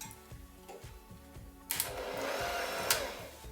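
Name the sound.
electric whisk running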